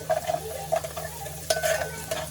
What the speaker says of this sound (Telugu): తర్వాత దాంట్లో 1/2 టీ స్పూన్ పసుపు వేసుకొని ఒక తిప్పుడు తిప్పేయండి.